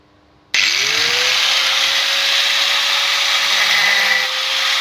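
A hole saw bores through material while fitting a drain line to a louvered window for a Hisense 12000 BTU portable air conditioner; the motor starts abruptly and holds a loud, steady whine with grinding cut noise for several seconds, no talk.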